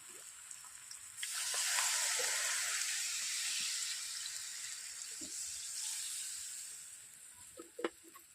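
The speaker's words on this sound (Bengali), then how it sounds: "এরপর আমি অল্প করে জল দিয়ে দিচ্ছি" Water splashed into a pan of frying young jackfruit in oil triggers a steady, loud sizzle that swells after the first second, holds, then slowly eases, with a few soft utensil knocks near the end and no talking.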